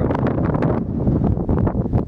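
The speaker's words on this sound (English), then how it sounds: "Give you an idea about the wind and the sand." Strong desert wind in the Dubai desert drives sand across the ground, a loud continuous roar buffeting the microphone with gusty surges and no voices.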